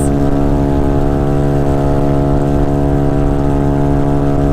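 Honda Ruckus scooter engine droning steadily and loudly while riding near 35 mph, a constant harmonic hum with wind rush and no pauses throughout.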